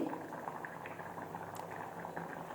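Moong dal boils in a pot with a soft, continuous bubbling and low burble, heard faintly and evenly throughout, no talk.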